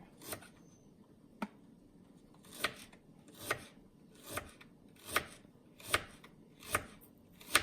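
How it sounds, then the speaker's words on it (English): Peeled ginger sliced with a knife on a board, a series of about nine crisp chopping taps at a fairly steady rhythm, close and clear against a quiet room. "Once you're done peeling off the ginger, you need to slice it"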